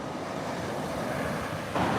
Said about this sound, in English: We've got mild waves.